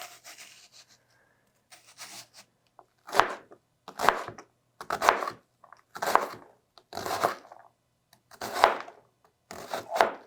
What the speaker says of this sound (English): we're just going to chop this one the same way we did our other onions